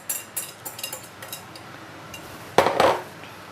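Metal spoon clinking and scraping in a glass as a pink rum cocktail is stirred, light scattered ticks followed by a louder burst of rattling near the end.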